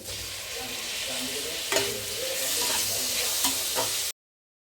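Chopped tomato hits hot oil for a palak paneer base, giving a steady broadband sizzle with a few sharp spatula scrapes against the pan, close and alone, before the sound cuts off abruptly.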